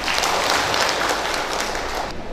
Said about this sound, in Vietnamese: xin đề nghị các đồng chí nổ một tràng pháo tay chúc mừng